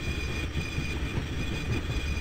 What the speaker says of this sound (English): Here's a train.